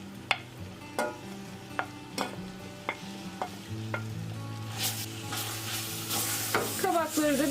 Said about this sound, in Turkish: Kavrulan unun içerisine rendelediğim kabakları ekliyorum.